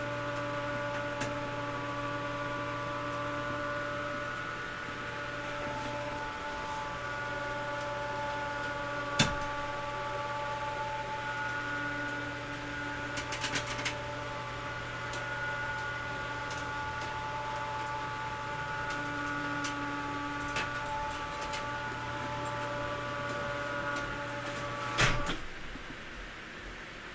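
Elevator lift bed in a box truck camper, its pulley feeding cable onto a roller: a steady mechanical hum with faint clicks and a louder clunk near the end, no talking.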